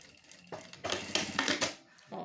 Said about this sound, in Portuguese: Você vai parar a sua costura.